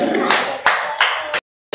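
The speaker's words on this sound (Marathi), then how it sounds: "त्याच्यासाठी टाळ्या वाजवा." Applause for a student's planet-model project at a National Science Day school event, with dense clapping in several bursts that stops abruptly, then resumes briefly.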